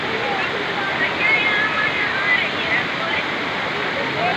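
A waterfall at a cold mountain stream near a Dronacharya shrine pours in a steady, dense rush of falling water that holds even and close throughout.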